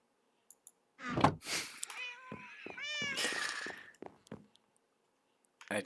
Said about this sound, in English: I tried putting cats at the tail end.